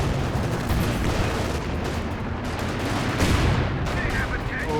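A Scott artillery barrage in Company of Heroes 2 pounds the battlefield, producing a continuous, loud rumble of overlapping blasts and gunfire under a commentator's voice.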